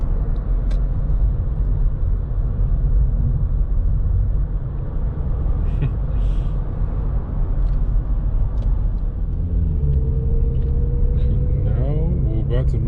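A 2012 Honda Accord EX Coupe with front-wheel drive cruises on the road, heard from inside as a loud, constant rumble of engine and tyre noise, with a voice talking over it.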